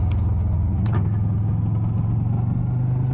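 A car engine with stock exhaust rumbles in a steady low drone while driving, loud and continuous, with a faint higher whine drifting over it.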